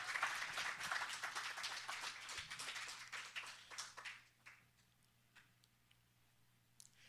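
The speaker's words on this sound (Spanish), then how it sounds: "Denle un aplauso al Señor" A church congregation claps during a sermon, faint and distant, trailing off after about four seconds into near silence.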